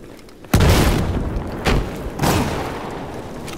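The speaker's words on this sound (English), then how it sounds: "Alright, I'm gonna rocket jump." Rocket jump explosion in Battlefield 4: a sudden heavy boom hits, followed by two more thudding blasts as it rumbles on, loud and close with no speech.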